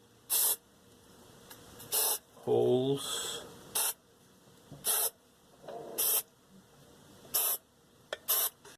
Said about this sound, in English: I've got the Permatex surface prep here, and I'm going to spray each one of these